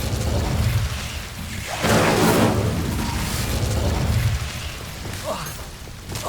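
Incendio fire spell cast in Hogwarts Legacy, a burst of roaring flame and magical whoosh swelling in the middle amid continuous game noise, with a smaller crackling flare near the end.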